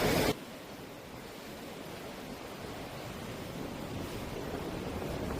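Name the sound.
rough sea waves at a beach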